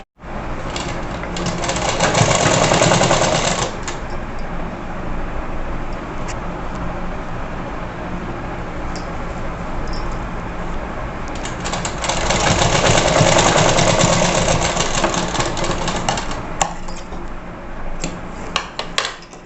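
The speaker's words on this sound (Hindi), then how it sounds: "सेम इसी तरीके से हमको इसको भी मोड़ करके सिलाई लगा लेनी है।" Sewing machine stitching folded net blouse fabric, running in two long bursts of steady loud whirring with a quieter stretch between them and no talk.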